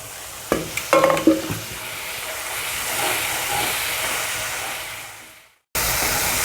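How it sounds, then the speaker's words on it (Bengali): Masala with a spoonful of coriander powder is stirred and fried with splashes of water for a potato curry, a few clanks of the spoon opening onto a loud, continuous sizzle and hiss that cuts off briefly and then resumes. "একটা চামচ ধনের গুঁড়ো এটাকে ভালো করে কষাবো একটু একটু জল দিয়ে আমি কষিয়ে নেব"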